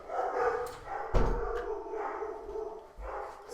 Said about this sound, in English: You hear all them dogs?